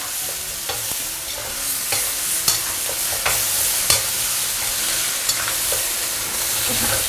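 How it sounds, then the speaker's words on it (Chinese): Bean paste and rib sauce stir-fried in a wok over low heat, a steady soft sizzle broken by repeated scraping clicks of a spatula against the pan, close and without voices. "接着开小火把这个酱炒香"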